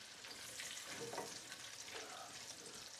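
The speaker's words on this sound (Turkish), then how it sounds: "Şöyle havuçları bir kavuralım güzelce." Carrots sautéing in a pan for a chicken shank stew, a steady soft sizzle with faint stirring scrapes throughout, fairly quiet and with no talking.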